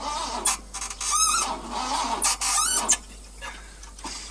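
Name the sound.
Ford truck engine piston squeaking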